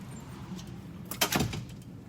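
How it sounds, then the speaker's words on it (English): A classroom door closes with a brief soft thud and rattle, heard once at moderate distance against quiet room tone. "So I would like to close the door."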